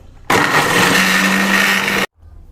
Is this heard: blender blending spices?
yes